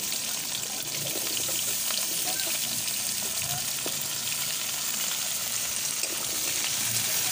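Pumpkin and potato pieces fry in hot oil for a vegetarian soybean and pumpkin dish, giving a steady, dense sizzle with faint watery crackle that holds evenly throughout with no one speaking.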